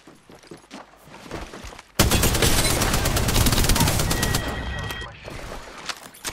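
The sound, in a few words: gunfire in the video game Apex Legends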